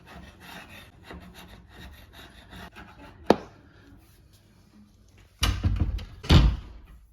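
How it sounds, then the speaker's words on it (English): Sandpaper rubbing on the corner of an old wooden door frame, steady soft scratchy strokes, with a sharp knock partway through and two louder bursts of rubbing near the end, close up. "Maybe I'll just sand off this little corner."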